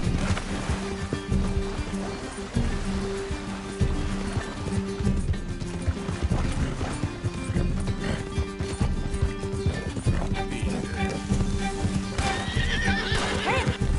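Rapid clip-clop of horse hooves galloping continuously in Red Dead Redemption 2, with a horse whinnying and background game music and ambience.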